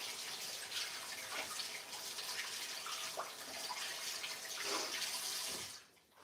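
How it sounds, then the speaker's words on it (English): Tap water runs into a kitchen sink while hands are washed, a steady hissing splash with small shifts as the hands move through the stream, stopping near the end. "Wash these hands."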